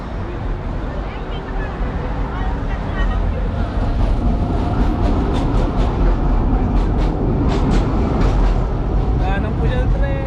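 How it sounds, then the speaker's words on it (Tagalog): A train crosses a hanging bridge, a loud continuous rumbling roar that builds and holds steady, heard close with people talking over it. "Daanan po siya ng tren."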